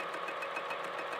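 A sewing machine stitches fabric with a fast, steady mechanical whir and faint rhythmic pulsing, heard close and quiet over a very brief moment.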